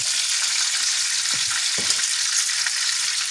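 A steak frying in rosemary-infused oil, an even, bright crackling sizzle close up, with a couple of soft taps of tongs against the pan, no voices.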